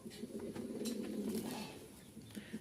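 A pair of Giribaz pigeons, held in a cage, give faint low coos in a short run of warbling calls, quiet and close, with a few light clicks and rustles.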